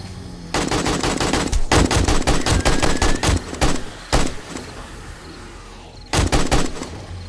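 Rapid automatic gunfire in the zombie survival game 7 Days to Die, loud sustained bursts broken by short pauses, a few single shots between the volleys.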